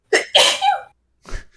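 A single sharp human sneeze, close and loud in two quick bursts, followed after a short pause by a softer sniff or breathy after-sound.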